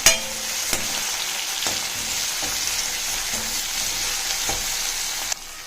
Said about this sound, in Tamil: இப்போ தக்காளி ஆட் பண்ணிக்கோங்க. கருவேப்பிலை ஆட் பண்ணிக்கோங்க.